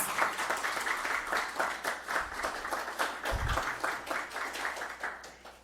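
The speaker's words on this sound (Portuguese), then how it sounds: "Uma salva de palmas para os nossos apoiadores." Audience at a law exam-prep workshop gives steady, moderately loud applause for the event's sponsors, with many hands clapping densely throughout.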